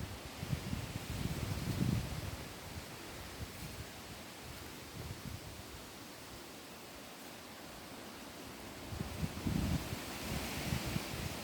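Wind blows through the woods at night, a steady broadband rush with gusts swelling and easing, heard alone with no talking.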